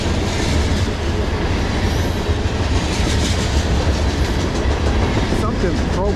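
A freight train rolls past on the Lehigh Line, a loud, continuous close rumble of cars with rhythmic wheel clatter and occasional squeal, filling the whole stretch.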